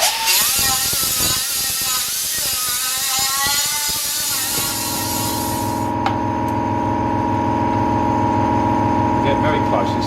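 Grinder working the edge of a steel rocker panel patch on a Mercedes 300 SEL 6.3: a loud, continuous whine rises in pitch at the start, then after about four seconds shifts to a steadier, lower motor drone.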